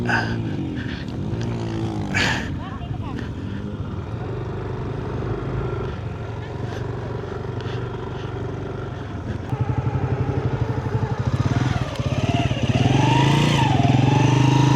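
Motorcycle riding over rocky, boulder-strewn terrain near Lake Mapanuepe in Zambales, its engine revving and surging continuously and close, growing louder in the final seconds.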